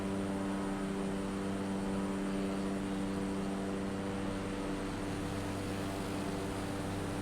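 Steady cockpit drone of a propeller airplane in Microsoft Flight Simulator, a constant engine hum with strong low tones holding evenly and close throughout, with no voices.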